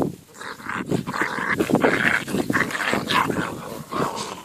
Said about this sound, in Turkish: Bana mı hırlayın